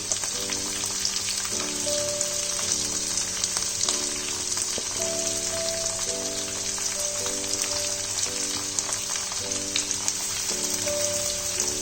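Pumpkin, eggplant and Malabar spinach stems frying in oil in a pan, a steady, dense crackling sizzle like light rain that carries evenly throughout, with soft background music underneath.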